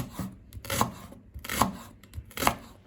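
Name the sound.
chopping leeks with knife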